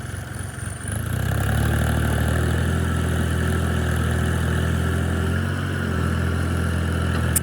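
A tractor engine runs steadily while hauling a bale wagon out of a muddy field, a low throbbing drone that swells after a second and holds loud and near.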